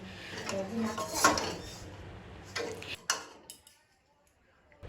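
Wheat flour (atta) being mixed and dry-roasted in a pan for a snack, with repeated scraping and clinking of a utensil against metal over a steady background hum, quieter near the end.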